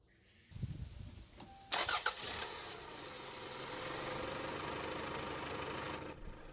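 A car engine that has just been repaired starts: a few clicks, then a short crank and catch, and the engine settles into a steady, close idle.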